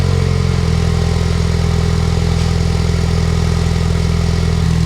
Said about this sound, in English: It's cold, it's been sitting for a while, so you'll get a true cold start.